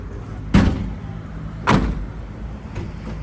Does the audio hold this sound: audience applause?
no